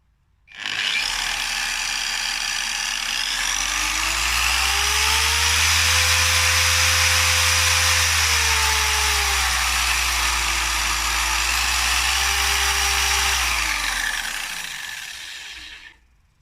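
A Clover DA15/DA21 car buffing machine with a 1000 W motor spins up, runs for about fifteen seconds with a loud, steady whirring whine whose pitch drifts slightly, then winds down.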